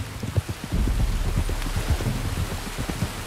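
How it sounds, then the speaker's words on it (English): Steady rain falls in the Red Dead Redemption 2 video game, a continuous close hiss with scattered low thuds and drops throughout, and nobody speaks. "You were right about the damn rain."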